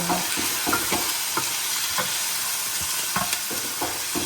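Chicken pieces browning in a hot pan make a loud, continuous sizzle and crackle, with a few utensil taps and scrapes at irregular intervals. There is no talking.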